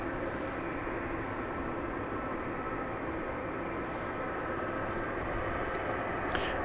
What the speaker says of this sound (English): we get to see it lifting off from runway 18 left